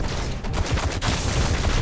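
Rapid rifle fire in the sci-fi shooter Destiny, a dense, continuous volley of loud shots with no pauses.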